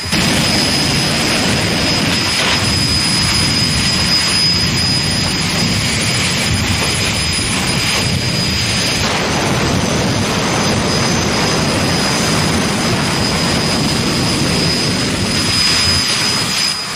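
A loud, continuous jet engine roar from a jet funny car at a drag race holds steady throughout, with a high whine running above the thick rumbling noise.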